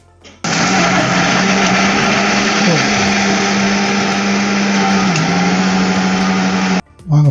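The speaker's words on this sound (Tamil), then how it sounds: "அந்த நம்ம ஓரியோ பிஸ்கெட் எடுத்து வச்சுருந்தோம்ல, இப்போ நம்ம அரைக்க போகிறோம்" Oreo biscuits ground in an electric mixer grinder in a home kitchen: loud steady whirring roar for about six seconds, briefly dipping in pitch as the load shifts, then cutting off abruptly.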